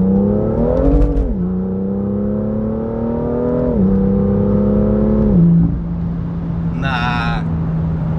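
A BMW M2 accelerates while being driven, its engine droning loud and close through stepped rises in pitch as it shifts gears, then settling to a steady hum, with a brief higher electronic tone near the end.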